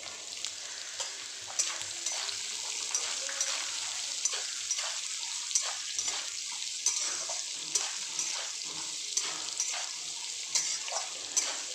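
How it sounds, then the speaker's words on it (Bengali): Carrot pieces sizzle in hot oil while a spoon stirs them, giving a steady crackling hiss with frequent scraping clicks against the pan. It is close and fairly loud, with no voices. "গাজরটা নাড়িয়ে নিলাম"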